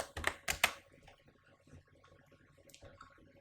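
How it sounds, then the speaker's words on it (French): Three quick clattering keystrokes on a computer keyboard, close and crisp, followed by softer scattered clicks and quiet room tone. "on va taper 404 au niveau de la recherche"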